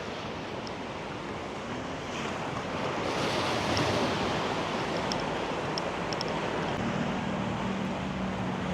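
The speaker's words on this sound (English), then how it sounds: "So obviously high tide, you got the water going under the bridge here." Sea water rushing under a coastal bridge at high tide in Phuket: a steady, loud wash of flowing water and surf blended with wind noise on the microphone, continuous throughout with no talking.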